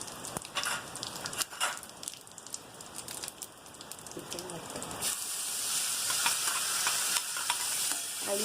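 Sprouted moth beans tossed into hot oil with onion, garlic and masala for Kolhapuri misal, a soft crackling sizzle with scattered stirring clicks that swells into a denser, louder hiss partway through.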